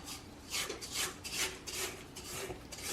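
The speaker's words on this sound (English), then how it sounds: "scrape down the sides of the bowl and kind of scrape off the bitter" A spatula scrapes the sides of a mixing bowl of creamed butter and sugar, making soft repeated rasping strokes that are close but quiet, with no voices.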